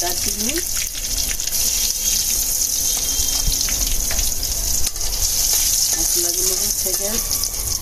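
Whole spices such as bay leaf, cardamom, cloves and cinnamon sizzling in hot oil for a duck curry, a continuous loud hiss mixed with running water and kitchen clatter.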